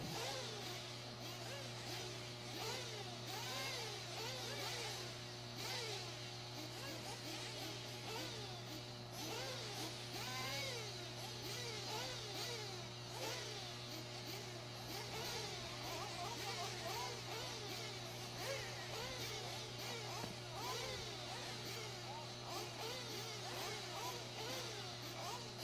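Nitro RC buggy engines scream around a track during a championship A-main race, several high-pitched buzzing engines rising and falling in overlapping revs, steady and somewhat distant, with faint background chatter.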